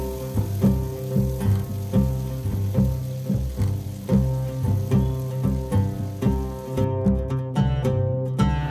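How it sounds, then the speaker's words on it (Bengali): Chopped onions with ginger frying in hot oil for an egg dish, a steady close sizzle with rhythmic stirring scrapes repeating about twice a second. "পেঁয়াজটা আমি ভালো করে ভেজে নেব।"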